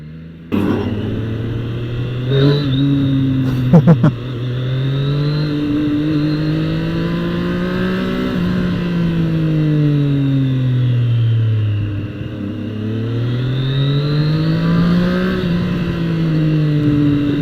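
A Triumph Street Triple 765 motorcycle engine revs loud and close while being ridden, its pitch repeatedly rising and falling in long sustained sweeps, with a couple of brief knocks early on.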